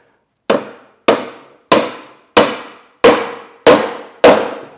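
Seven sharp, ringing hammer blows drive a spindle into a sack-back Windsor chair, struck at a steady rhythm about half a second apart, each loud and close with a quick decaying ring and no talk.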